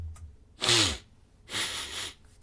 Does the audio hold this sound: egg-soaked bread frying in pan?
no